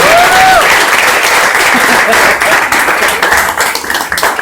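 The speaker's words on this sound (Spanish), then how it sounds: "le damos un aplauso al Señor" A church congregation applauds loudly and steadily, dense clapping close by, with a brief high vocal cry near the start and the applause thinning slightly at the end.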